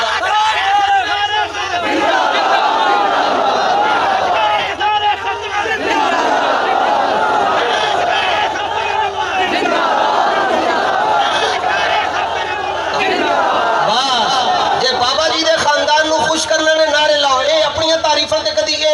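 A large crowd at a religious gathering in Uch Sharif loudly chants a religious slogan in unison, sustained and dense for the whole stretch, with a leader's voice calling out within the roar.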